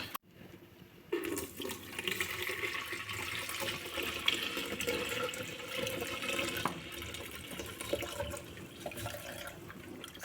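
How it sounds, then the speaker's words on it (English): Rice being washed in water at a home kitchen sink, with steady running and sloshing water continuing for about nine seconds after a quiet start, close and moderately loud. "So you have to wash the rice thoroughly, even 3 times if possible"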